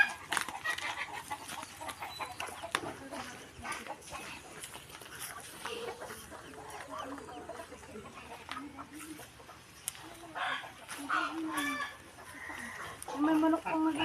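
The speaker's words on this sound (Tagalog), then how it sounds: "May manok pang nag-iitlog din, no?" Chickens clucking and murmuring nearby, with a few louder squawks toward the end, over a soft background of voices.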